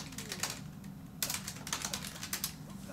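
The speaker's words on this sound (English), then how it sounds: "You hear typing." Quiet bursts of typing on a computer keyboard, rapid clustered keystrokes in short runs, close and faint in an otherwise still room.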